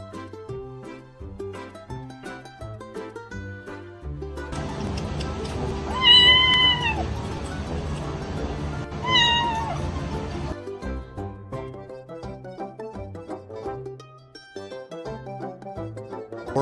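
Kittens meow in several clear, rising calls over a background of music, with two prominent cries near the middle standing out loudly against the steady backing.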